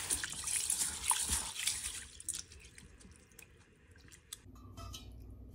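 Rice being scrubbed vigorously by hand in water, with wet swishing and splashing loud in the first two seconds, then quieter drips and trickles, close and without talk.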